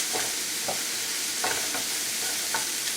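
Sofrito fries in a pan with a steady, bright sizzle, and a few soft stirring scrapes come at intervals. No one speaks.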